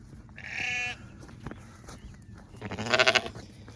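A sheep bleats twice during a walk in lambing season, first a steady drawn-out bleat, then after a short pause a louder, wavering one, both close by with faint background rustle and no talk.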